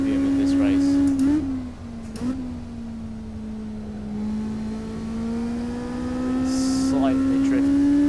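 A Honda lawnmower engine in the racing game Assetto Corsa drones in a steady, loud, close hum with the pitch rising and dipping through corner shifts on the Macau Guia Circuit, with no voices.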